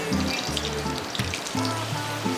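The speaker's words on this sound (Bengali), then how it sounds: "বাটারটাকে ভালো মতো গলিয়ে নেব" White oil and a spoonful of butter heat in a hot kadai on the stove, giving a steady sizzling hiss with some low background hum and no talk.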